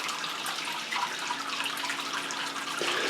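Water pouring steadily into a Brewtools brewing kettle, a continuous close hiss and splash of filling liquid with no talk.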